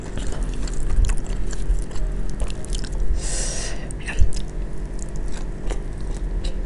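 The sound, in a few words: chewing and biting shrimp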